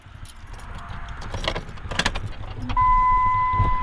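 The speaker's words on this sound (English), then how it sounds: "we'll go ahead and see if we can get this truck to start." An old farm truck with a MOPAR 361 engine cranks over steadily with a rough mechanical churn that swells louder toward the end, along with a faint jangle of keys near the start.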